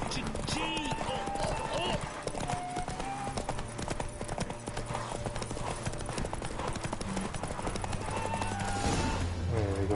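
In the video game Witcher 3, a horse gallops in a race with rapid, steady clip-clop hoofbeats throughout, mixed with game music, a brief whinny and a voice talking over it.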